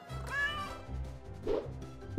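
A cat meowing, a few short close meows in a row, alone with no talk.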